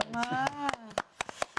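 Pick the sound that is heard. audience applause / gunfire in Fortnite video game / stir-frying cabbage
audience applause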